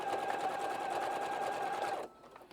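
A sewing machine runs a straight stitch across a fabric gift bag, a fast, even mechanical whir heard close and alone for about two seconds before stopping abruptly.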